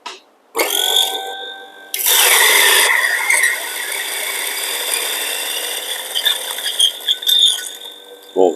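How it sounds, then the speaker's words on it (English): Baby EK coffee grinder running at 2000 RPM on 10 grams of special beans, a steady high-pitched mechanical whir that starts loud after a brief pause and holds through, with small fluctuations near the end. "So this is the speed I'm going to grind these special beans"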